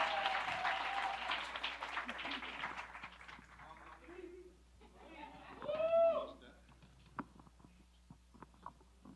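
Summit audience applause and cheering swell loudly at first, then thin out into scattered claps, a few whoops and murmured chatter, with a short whistle or shout rising near the end.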